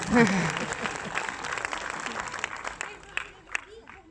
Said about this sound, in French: on peut applaudir madame qui confirme les propos